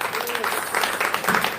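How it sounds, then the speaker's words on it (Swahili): Applause from a church congregation praising Jesus during a service, a steady wash of clapping sustained across the moment with voices mixed in. "Ongeza makofi mengine mazuri kwa Bwana Yesu."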